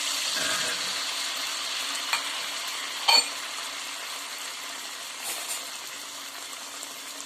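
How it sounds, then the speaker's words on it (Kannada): Food deep-frying in hot oil makes a soft, continuous bubbling sizzle with a few faint knocks and clinks, fairly quiet and steady throughout, with no voices. "ಎಣ್ಣೆ ಕಾದೈತೆ ನೋಡ್ರಿ, ಹಾಕ್ಕೊಂಡು ಬರ್ರಿ"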